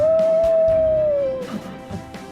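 A child imitates a coyote howl with a single long, steady, loud tone that slides down at the end, followed by quiet room noise.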